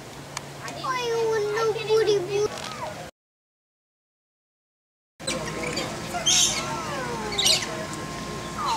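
Birds in a zoo aviary give high chirps, trills and squawks under almost constant nearby talking from an adult and children, broken by a short gap of silence.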